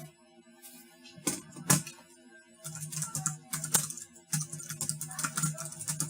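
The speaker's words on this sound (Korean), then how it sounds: "플라스틱 제품이니까 딸깍딸깍 거리는 소리는 당연히 날 거고요." Light plastic keys of a mini Bluetooth keyboard clicking in quick irregular bursts, close and fairly soft, with short pauses between runs of keystrokes.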